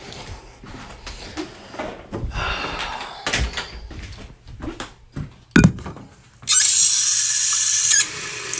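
A door in a house is handled and checked: scattered knocks, thumps and rattles, a sharp bang, a squeal, then a sustained hissing scrape near the end, all close by with no voices.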